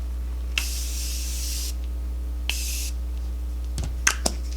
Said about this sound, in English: And now we're going to spray it. I'm going to use my Maracujá Miracle Mist.